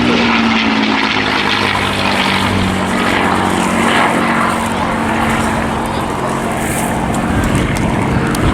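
North American Aviation propeller warbird built in 1944 flying at the Eastbourne Airshow, a loud, steady engine drone throughout, with a commentator talking over it.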